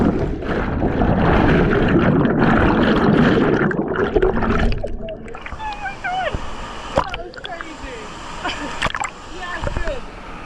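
Someone jumps into a lake below a waterfall in Nha Trang, and a loud churning splash and rush of water is followed by lighter sloshing and bubbling while a person talks excitedly.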